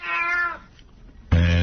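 Cats in a radio studio let out two clear meows, a drawn-out one, then a short pause and a sharper, louder one.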